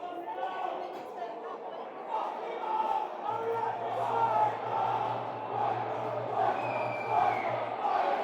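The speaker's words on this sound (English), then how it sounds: "Always a sympathetic crowd at Millwall." A large football crowd at a Millwall match fills the stands with a steady, far-off roar of chatter and shouting that swells and dips throughout, with a low sustained hum running underneath for much of it.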